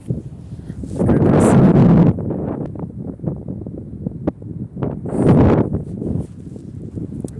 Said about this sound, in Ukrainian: Морозний сильний вітер.